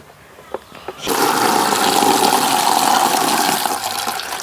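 Water gushes loudly into a homemade summer drinking container for birds, a sudden strong rushing pour after a few quiet taps, sustained close up.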